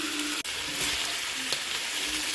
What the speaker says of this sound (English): as the diced steak is getting a nice sear on it